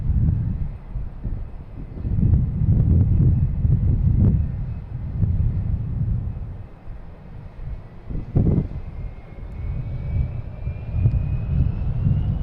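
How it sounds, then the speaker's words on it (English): A Delta Boeing 757 jet airliner departing Boston Logan Airport makes a rolling, fairly distant engine rumble that swells and fades over several seconds, with light wind noise and no talking. "Delta heading to Atlanta, 757, flight 456."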